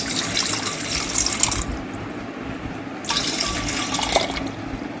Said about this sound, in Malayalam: ഇനി വെള്ളം ഒഴിച്ചു കൊടുക്കാം കേട്ടോ